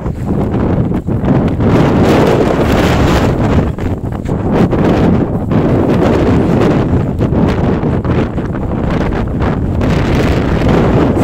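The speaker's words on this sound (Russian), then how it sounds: "Ветер прям в лицо." Strong northeasterly blizzard wind in freezing Anadyr, Chukotka, roars continuously and loudly, buffeting the microphone with gusty rumbling and rustling, no voices.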